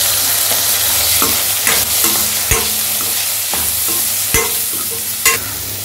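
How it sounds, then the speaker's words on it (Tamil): Chopped eggplant with turmeric and chili powder fries in oil under a constant sizzle, while a spoon scrapes and knocks against the pan in irregular strokes every second or so, close and loud, with no voices. "கத்திரிக்காய் தூள் எல்லாம் வதங்கிடுச்சு எண்ணெயில்"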